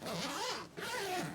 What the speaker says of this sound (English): Did I mention the YKK zippers and how they move around?